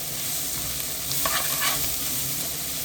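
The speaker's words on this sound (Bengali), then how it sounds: "এখন আমি এই পেঁয়াজগুলোকে ভালো করে মেল্ট করে নিব।" Onions fry in a pan for a chicken roast, a steady, close sizzle running throughout with faint stirring crackles midway, no voices.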